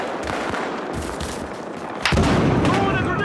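A frag grenade explosion and gunfire in the Battlefield Hardline video game, with scattered gunshots and then a heavy, booming blast that sustains at high level, under brief shouted talk.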